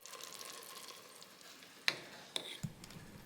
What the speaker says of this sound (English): You're going to let the butter and the onions cook together.